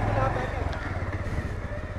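A bike taxi motorcycle rides through city streets at night with a steady, droning engine hum, traffic noise around it and a voice talking over the ride.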